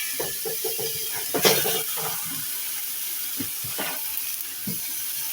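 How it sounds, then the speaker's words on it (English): Ground beef browning in olive oil in a pot for church chili gives a steady sizzling hiss, with scattered clinks and scrapes from stirring close by. "we're going to put our ground beef and beef cubes in our pot and get them browned"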